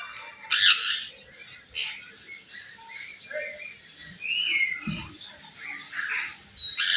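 Birds at Nandankanan zoo squawk and chirp in scattered, irregular calls, some sharp and close, others fainter, with brief pauses between bursts and no talking.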